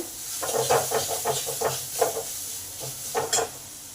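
Water added to hot fried masala in a pan, hissing and steaming with a series of short bubbling, sputtering bursts and spoon stirs, fairly soft and close, with no one speaking.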